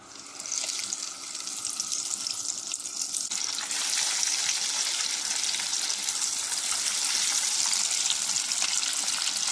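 Flour-coated chicken fries in hot oil, a close, dense crackling sizzle that grows louder after a few seconds and then holds steady and strong, with no voices.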